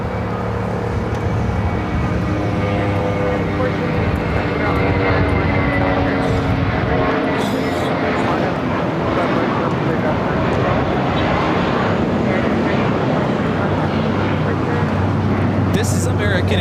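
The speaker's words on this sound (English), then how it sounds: "This is American Airlines 3222 taking off to Dallas Fort Worth on the A321." American Airlines Airbus A321 taking off at LAX, a steady loud roar of jet engines filling the whole stretch with broadband rumble and a sustained low drone, a voice talking over it.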